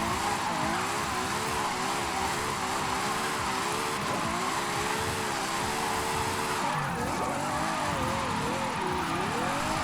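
A Ferrari J50 drifting in the racing game Forza Horizon 5, its engine droning and warbling loudly through sustained slides with tire squeal, continuous and close for the whole stretch.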